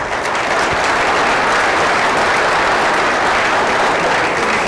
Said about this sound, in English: give her a round of applause as she arrives